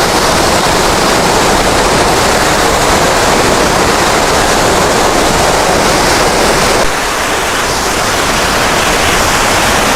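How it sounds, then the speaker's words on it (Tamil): Water roars steadily and loudly, a dense unbroken rush from a waterfall close at hand in Badulla, Sri Lanka, flowing between tree branches, with no voices. "மர கொப்பளுக்கு இடையில அதில் பாருங்கள் எவ்வளோ போஸாக தண்ணி வருது"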